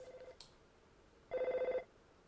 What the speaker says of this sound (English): Is that the phone ringing?